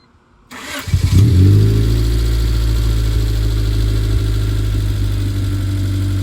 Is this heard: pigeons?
no